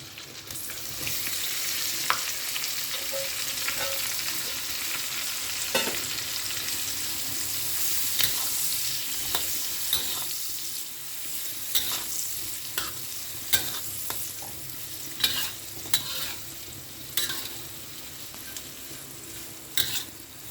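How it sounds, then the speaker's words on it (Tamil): Two large onions sautéing in a pan for nasi lemak, a continuous steady sizzle with occasional spatula scrapes and knocks growing more frequent toward the end, close up and without speech. "வெங்காயம் வதங்கிட்டோம்."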